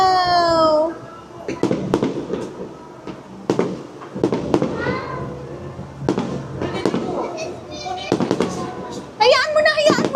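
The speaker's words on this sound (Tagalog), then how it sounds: "Ay, may fireworks, Kali!" Fireworks burst repeatedly at a staycation resort, sharp cracks and booms spaced irregularly over several seconds, with excited voices of an adult and someone talking and exclaiming between the explosions.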